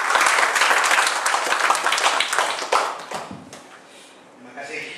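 An audience at a university business-training opening ceremony breaks into steady clapping that fades toward the end, with a brief voice underneath.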